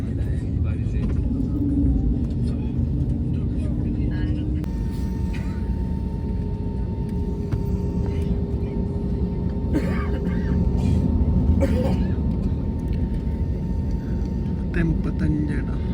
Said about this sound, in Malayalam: ഫ്ലൈറ്റ് നീങ്ങി.